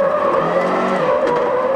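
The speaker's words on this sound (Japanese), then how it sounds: "疾走する98年 WRC ランサー" A 1998 WRC Mitsubishi Lancer rally car at full speed, its engine note loud and close with a steady high whine and a brief skid of the tyres, with no talking over it.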